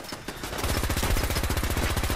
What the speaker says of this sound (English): Yo, this machine turret is hardcore.